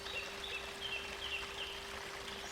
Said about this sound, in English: Turn your attention toward the river.